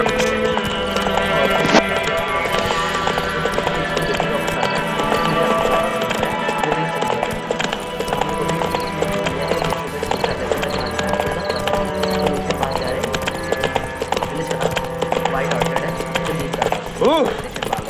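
Roach, a horse in The Witcher 3, gallops with rapid, continuous hoofbeats under loud game music and effects, with a voice speaking at times over the running.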